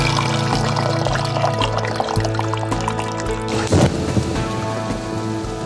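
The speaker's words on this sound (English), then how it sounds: "and simply cover with cool water." Cool water poured over fish bones and trimmings in a stockpot with onions, celery, bay leaves, peppercorns and white wine, a steady rushing splash that runs for several seconds, loud and close, with one brief sharper burst partway through.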